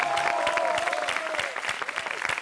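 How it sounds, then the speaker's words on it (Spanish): Studio audience applause on a Peruvian television interview show, brisk clapping with a few voices calling out over it, continuing throughout. "Un aplauso para él."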